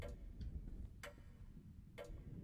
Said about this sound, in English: God, I hate that clock.